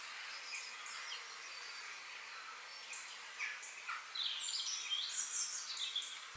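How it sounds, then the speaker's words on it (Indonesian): Faint high bird chirps and tweets scattered through a quiet forest ambience near a waterfall in Indonesia, growing a little busier toward the end, with a soft insect-like hiss underneath. "Suara burung-burung berkicau riang, menambah kesan magis di tempat ini."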